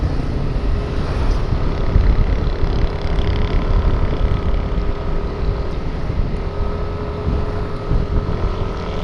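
A Yamaha NMAX scooter engine labours steadily up a steep road under a rider and passenger, a continuous loud drone mixed with wind buffeting the microphone, no talk.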